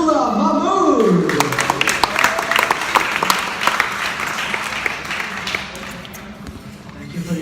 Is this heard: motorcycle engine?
no